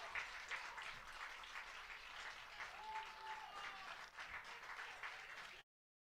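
Baseball crowd cheering and clapping after a home run, a fairly distant, sustained roar of applause and voices that cuts off abruptly near the end.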